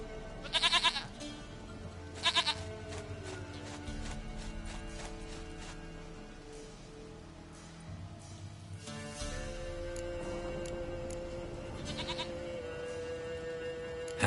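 Goat bleats in The Witcher video game, two loud bursts near the start and another pair later, over a steady ambient game background with low tonal music.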